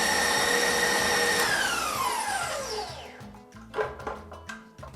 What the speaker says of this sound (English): in the bowl of a stand mixer, I'm going to add 2 8-ounce blocks of cream cheese. And I'm going to mix that until it's nice and smooth